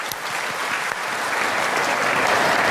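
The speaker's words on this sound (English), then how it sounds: "please give another round of applause for our young generation and their wonderful performance" A crowd applauds after a young group's performance at a large vegan-themed gathering, sustained, loud clapping that swells slightly toward the end, with no voices over it.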